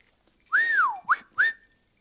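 Dogman's crane-signal whistle, blown close: a long swooping blast followed by two short rising chirps, loud and clear over a quiet background.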